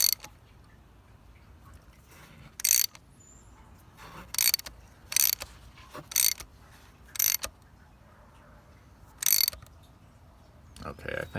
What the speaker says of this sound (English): now I'm ratcheting it on there until I get some resistance